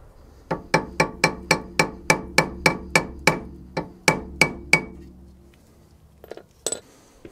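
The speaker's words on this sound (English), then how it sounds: "And now I'm hammering stuff." Metal hammer blows strike the rear wheel bearing hub of an Audi A3 (8PA) in a workshop, about fourteen sharp, evenly spaced ringing strikes, loud and close, followed by a brief clatter and a few lighter knocks.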